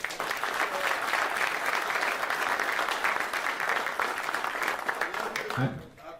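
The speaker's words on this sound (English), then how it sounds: "Let's clap it up for him" Audience applause at a praise-break gathering, a loud, sustained wash of clapping that runs steadily, then tapers near the end, with a voice talking over it.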